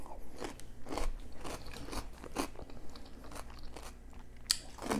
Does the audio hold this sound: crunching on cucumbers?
yes